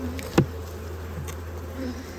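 Honeybees around an open hive in preparation for winter give a steady low buzz close by, with one brief louder bee passing near.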